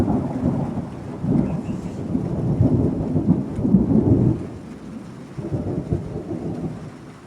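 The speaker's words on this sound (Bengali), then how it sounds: "বৃষ্টি হচ্ছে বৃষ্টি" Steady heavy rain pours down in a continuous broad wash, joined by low rolling rumbles like distant thunder that swell and ease over several seconds, with no voices.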